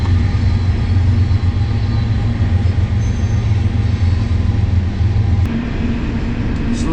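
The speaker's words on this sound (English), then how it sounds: "There's the train." A steady, loud low rumble of a train rolling past nearby a riverfront campground, holding constant for several seconds before easing off slightly.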